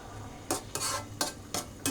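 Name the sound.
stir-fried vegetables added to pan with cooking fish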